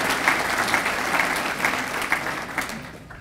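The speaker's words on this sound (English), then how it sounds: "You can give John Marshall a great round of applause" Audience gives a round of applause at a legal tribute event for Chief Judge Timothy C. Evans, a dense, steady clapping from a sizable crowd that fades slightly at the end.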